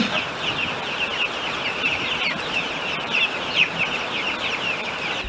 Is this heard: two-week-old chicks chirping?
yes